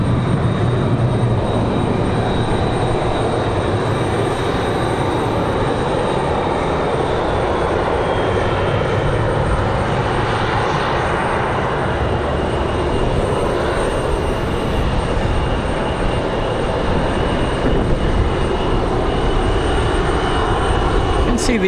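An Air Canada airliner in all-black livery runs its jet engines at a windy airport, a steady broadband roar holding for the whole stretch with wind noise mixed in and a voice talking over it.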